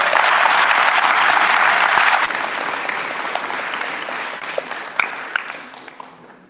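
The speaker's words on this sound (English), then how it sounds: "So let's give a round of applause to Lynn Edwards." Dense audience applause at a community State of the District event, loud and steady for about two seconds, then gradually thinning and fading with a few scattered last claps.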